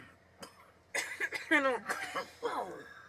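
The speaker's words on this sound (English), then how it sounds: "It's making me cough too much, man." A person coughing from smoke gives a few harsh, rough coughs and throat-clearing bursts at close range, broken up by short gaps.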